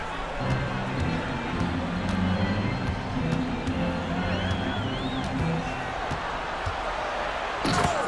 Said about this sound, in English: And it's slammed in by Davis.